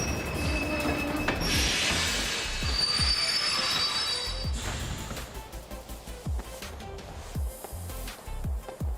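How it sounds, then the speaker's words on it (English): A train pulls in within the Kingdom Hearts 2 video game, its wheels squealing loudly in a sustained high screech that fades into rhythmic clacking and mechanical rattles as it slows. "The train will be arriving shortly."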